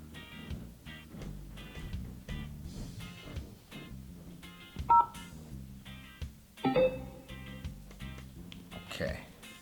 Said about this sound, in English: to pair it with your phone, you just want to turn it on.